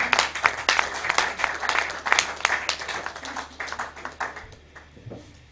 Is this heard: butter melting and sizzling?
no